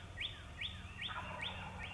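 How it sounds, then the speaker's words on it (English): Birds chirp outdoors on a spring morning during Missouri turkey season, giving a steady series of five quick, high, sweeping calls at moderate distance over low background noise. "Birds are chirping."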